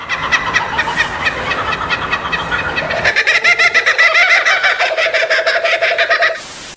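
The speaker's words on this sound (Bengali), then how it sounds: "এটির সবচেয়ে ইউনিক দিক হচ্ছে এটার পেতনির মতো আওয়াজ" A kookaburra, the Australian bird, gives its loud laughing call in a rapid run of repeated cackling notes that swells after a few seconds, then cuts off abruptly near the end.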